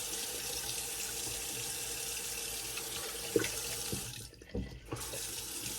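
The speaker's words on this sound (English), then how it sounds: "so we're turning on the hot water faucet to get the coldest water" Hot water faucet running into a bathroom sink in Arizona, a steady quiet splashing stream that continues evenly, then briefly shifts and thins near the end.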